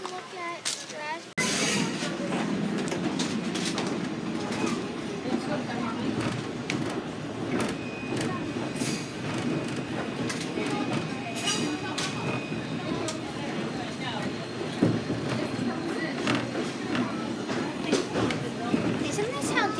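A diesel train on the Wilmington Western Railroad rumbles and clatters steadily with a loud, continuous mechanical drone heard from on board, while people talk throughout.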